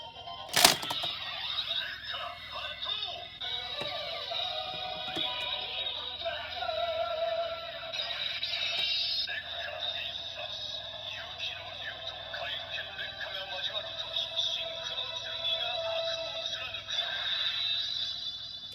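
A DX Seiken Swordriver toy belt from Kamen Rider Saber fires off its transformation effect: a sharp click, then a long run of electronic music and effect sounds at steady volume, with talk over it.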